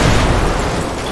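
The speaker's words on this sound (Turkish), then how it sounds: "Bir de patlama sesini dinleyin baba." A loud, sustained roaring blast with heavy low rumble that holds steady for about a second, an explosion in modded Grand Theft Auto V.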